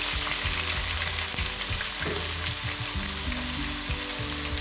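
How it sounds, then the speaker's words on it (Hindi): Garlic and ginger fry in about a quarter cup of oil for chicken Manchurian, giving a steady, close, loud sizzle with occasional stirring scrapes throughout and no talking. "इसमें मैं डाली हूँ लहसुन अदरक। इसको अच्छा सा हमने फ्राई करना है।"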